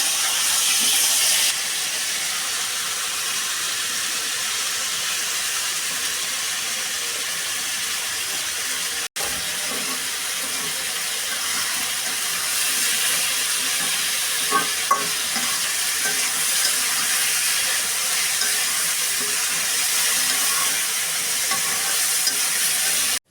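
Sweet pumpkin sizzles and fries in a pan, a continuous loud hiss of steam and oil lasting throughout, with occasional soft stirring clicks and a brief dropout partway.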